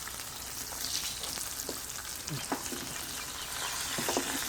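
Steady sizzling and crackling of fish frying in hot oil, close and continuous, with occasional small pops and clinks.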